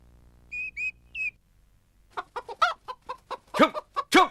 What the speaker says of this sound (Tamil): கோழி நெல்லெல்லாம் தின்னுகிட்டு இருக்கு